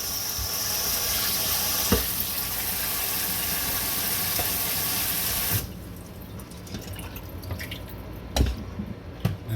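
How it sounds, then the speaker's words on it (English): Cold water from a kitchen tap runs steadily over cooked noodles in a strainer, a loud continuous splashing rush that stops abruptly partway through, leaving quieter drips and a few small clatters. "Once I put them in the strainer, I run some cold water over them"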